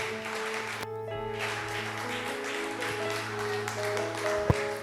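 A church congregation applauds, steady dense clapping running the whole time over sustained musical tones and a low hum.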